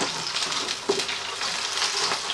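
Battered fish frying in a pan gives a steady, bright sizzle and crackle, close and moderately loud, with a brief spatter partway through and no talking.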